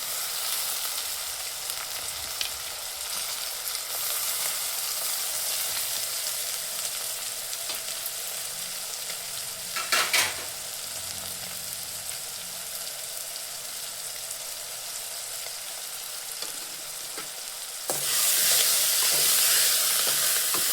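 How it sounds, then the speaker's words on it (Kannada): Mint, coriander and bay leaf frying in hot oil for an egg biryani, a steady close sizzle running throughout, with a brief stir around the middle and a louder, brighter burst of frying near the end. "ಈಗ ಪುದೀನ, ಕೊತ್ತಂಬರಿ, ಆಮೇಲೆ ಬಿರಿಯಾನಿ ಎಲೆ ಎಲ್ಲ ಹಾಕಿ ಇದೊಂದು ಸ್ವಲ್ಪ ಹೊತ್ತು ಎಣ್ಣೆಯಲ್ಲಿ ಚೆನ್ನಾಗಿ ಫ್ರೈ ಆಗಲಿ."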